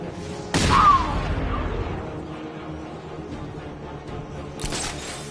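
Explosion in Batman: Arkham Knight at a chemical mixing plant: a sudden loud burst rings out and fades into rumbling debris, and a second sharp crash hits near the end.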